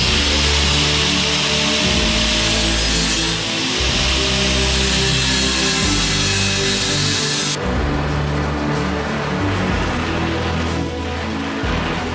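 Angle grinder cutting through a hand-forged steel sword blade to shorten it, a loud continuous whining grind that runs steadily with brief dips and shifts in pitch, close and alone.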